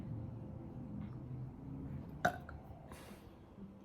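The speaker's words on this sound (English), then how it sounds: "I keep burping." A single short burp sounds at close range partway through, standing out against a quiet indoor background during a painting session.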